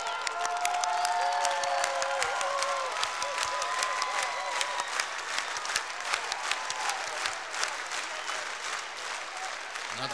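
An audience claps in sustained applause at a concert, steady dense clapping with scattered cheers and voices mixed in throughout.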